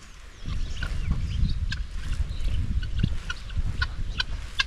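Chickens cluck on a farm, a low steady rumble of ambient noise underneath with scattered short calls from several birds at a moderate distance, continuous throughout.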